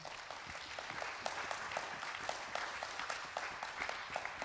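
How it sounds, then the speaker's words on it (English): A congregation at a feast day midrash gathering claps together, a dense, steady patter of many hands at moderate distance, sustained without letting up and with no talking over it. "Yeah, you can clap for that."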